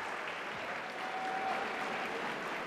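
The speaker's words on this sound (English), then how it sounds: "Can you do the clapping?" A large school-assembly audience claps for live-stream students, a soft, even wash of many hands heard from some distance, continuous and unbroken, with no voices on top.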